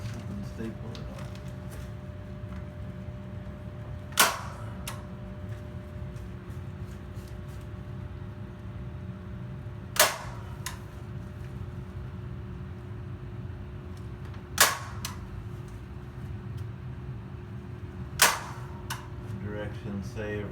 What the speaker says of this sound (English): take my staple gun, just go around and staple it on